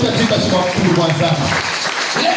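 Church congregation applauding together, a dense steady wash of clapping under and around a preacher's voice, with continuous speech over it from start to end.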